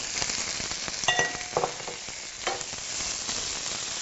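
Green beans being stirred in a pan with lemon juice, salt and pepper, giving a soft, steady sizzle with scraping and occasional light clinks of the utensil, close by and with no voices.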